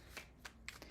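Tarot cards being shuffled close up in a quiet room: three or four short papery riffling bursts spaced under a second apart, with no talking.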